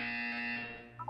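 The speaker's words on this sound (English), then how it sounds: "You will hear a buzzer." A sustained electronic buzzer from the video game Portal 2 sounds as one loud, steady harsh tone for most of a second, cutting off into a couple of brief higher blips, with no talking.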